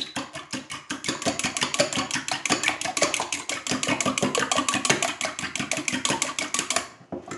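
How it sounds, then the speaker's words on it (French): Fork beating eggs in a bowl for a cheese tart, a fast steady run of close, crisp rhythmic clicks and scrapes lasting several seconds, briefly stopping near the end. "je vais mélanger à la fourchette, comme si je voulais faire une omelette"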